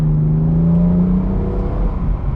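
A 2018 BMW M4 Competition accelerates in drive, its engine note rising steadily as a loud, close, continuous exhaust drone; no distinct pop stands out.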